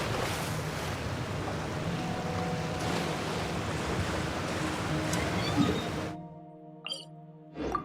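A waterfall in the video game Genshin Impact gives a steady, rushing roar of falling water for about six seconds, then cuts out, leaving brief quiet game sounds.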